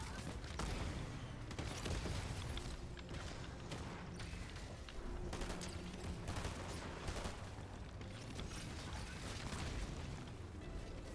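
Dense gunfire in the Fortnite video game: continuous rapid bursts and cracks fill the whole stretch with a steady, busy barrage.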